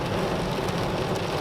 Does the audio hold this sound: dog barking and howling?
no